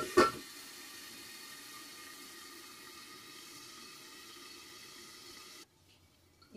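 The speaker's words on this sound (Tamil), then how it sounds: "இதுல இப்ப நான் வந்து ஒரு அரை கப் அளவுக்கு தண்ணி விடுறேன்." Half a cup of water is poured into an egg and capsicum curry, a steady soft splashing trickle that runs evenly for several seconds, then stops abruptly.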